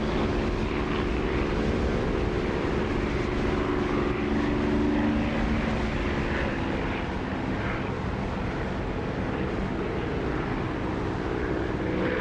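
Steady propeller aircraft engine drone inside the DCS flight simulator with flaps lowered, a continuous loud broadband roar with a low tonal hum that holds unchanged throughout.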